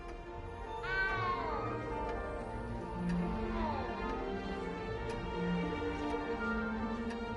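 A frightened little cat in the video game Hogwarts Legacy gives several plaintive meows with rising and falling pitch, clear and near, over a steady soft game ambience with faint ticking.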